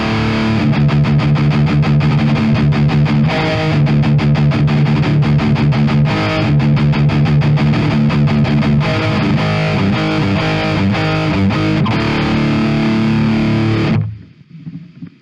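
Heavy distorted electric guitar through a JST ToneForge Misha Mansoor amp simulator chugs through a driving rhythm riff, loud and thick with no voices, then cuts off abruptly near the end.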